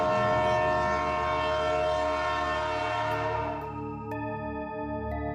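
An underground train on the London Underground sounds its horn as it arrives, a loud sustained tonal blast over rumbling rail noise that eases off, followed by brief clanks.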